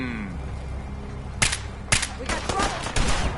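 Gunfire in Fallout 4 cracks out in four sharp, loud shots spaced about half a second apart, layered over a low rumbling battle backdrop with a voice shouting in the mix.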